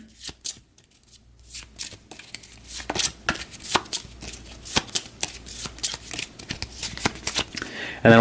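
Playing cards shuffled by hand for a wrestling tabletop card game, a run of crisp riffling bursts and sharp snaps that repeat steadily at close range, with no talking.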